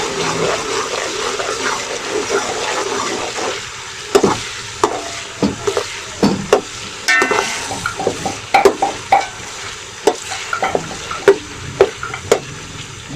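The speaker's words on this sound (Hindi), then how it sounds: "तो अभी आराम आराम से चम्मच चला रहे हैं" Finely chopped ginger and garlic fry in oil while a spoon stirs them: a steady sizzle runs throughout, punctuated by sharp, irregular metallic scrapes and taps of the spoon against the pan.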